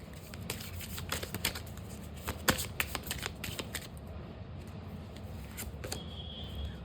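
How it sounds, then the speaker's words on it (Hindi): A deck of tarot cards is shuffled by hand close up, with soft riffling and irregular flicks and taps over a faint room hush, and no voices heard. "दीज आर द कन्फर्मेशंस आपके सामने मैं शफल कर रही हूँ"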